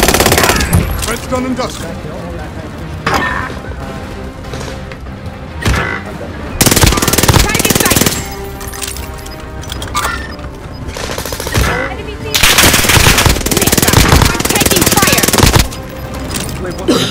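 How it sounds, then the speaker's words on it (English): Rapid automatic gunfire and bursts of shooting in a Call of Duty Warzone Resurgence match, loud and dense, arriving in several heavy waves with short lulls between them while a player talks over the action. "They shoot me! Merda! I'm taking fire!"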